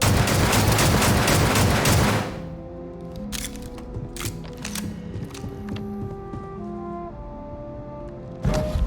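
Gunfire in the video game Starfield: a dense burst of rapid shots for about two seconds, then scattered single metallic shots and mechanical clanks over a quieter synthetic background, with a loud burst returning at the end.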